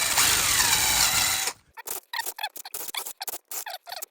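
A power drill with a 3/16 bit bores a hole, starting with a steady, loud, high whine that then breaks into short squeaky, stuttering bursts as the bit bites. No speech.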